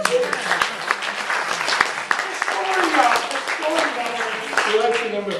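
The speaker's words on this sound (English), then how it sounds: "So let's clap for that." An audience claps together for a stretch of several seconds, a dense patter of many hands that sits under a speaking voice.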